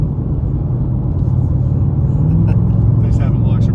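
A Ford Mustang with a performance exhaust rumbles steadily from inside the car while cruising, a low, moderate drone that swells slightly on throttle, with people talking over it.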